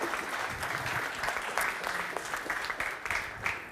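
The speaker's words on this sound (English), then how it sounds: "Can we give him another round of applause" Conference audience applauding at the E-Mobility Europe relaunch event, a steady wash of many hands clapping at moderate loudness, continuous through the whole stretch with no voices on top.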